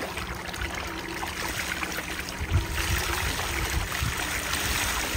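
Water steadily trickling and pouring into a freshly dug pit being filled for the first time, a continuous close, moderately loud gurgling flow with no talk.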